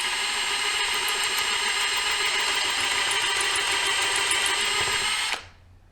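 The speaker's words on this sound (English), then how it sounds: "I used a 5/16 drill bit to enlarge this hole and get rid of the threads." A power drill with a 5/16-inch bit whines steadily and loudly while enlarging a threaded hole in metal, a constant high-pitched buzz with faint grinding, stopping abruptly near the end.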